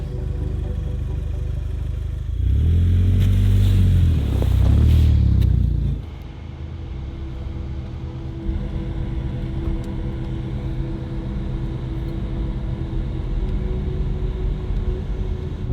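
An Audi Quattro all-wheel-drive car revs hard for a few seconds as it pushes through deep snow, then settles back to a steady low engine rumble.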